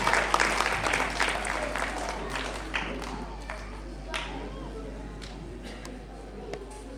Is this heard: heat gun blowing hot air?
no